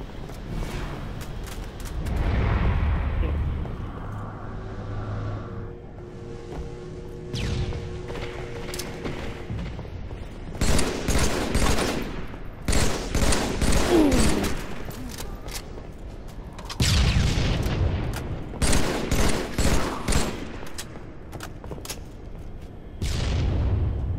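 Grenade explosions and gunfire from Halo 3 multiplayer come in repeated loud bursts, with booms and rapid shots clustered in several intense stretches separated by quieter gaps.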